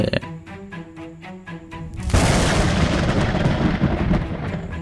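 A lightning strike sound effect likened to a tree crashing down: a loud, sudden broadband crack bursts in after about two seconds of soft tonal music, then rolls on as a sustained, noisy thunderous rumble.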